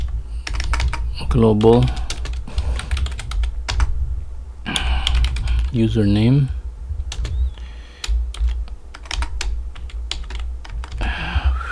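Typing a git config command on a computer keyboard in PowerShell, a steady run of quick, close key clicks that keeps going beneath a man's speech and into the pauses between his words.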